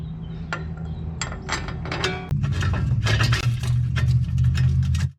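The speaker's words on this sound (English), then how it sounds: "let's put the bolts back in it" Bolts go back into the front hub of a 2006 Dodge Ram 1500 with close metallic clinks and quick ticking from a ratchet, which grows louder and steadier partway through.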